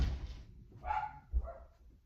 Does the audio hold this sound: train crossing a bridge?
no